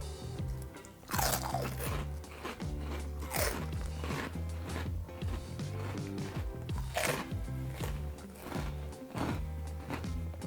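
Crisp, close crunching of Walkers Monster Munch corn snacks in pickled onion, roast beef and flaming hot flavours, with repeated bites and chewing crackles in an uneven rhythm, no talking.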